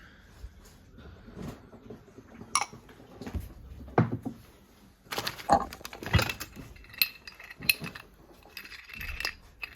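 Miniature ceramic dishes clink and clatter as they are picked up and set down, with irregular bursts of ceramic knocks and rattles nearby.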